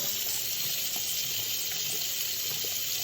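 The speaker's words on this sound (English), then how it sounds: "Hey, we got flowing water. No more clog." Water flows steadily down a freshly unclogged kitchen sink drain in a continuous, even rush, close and fairly loud with no pauses.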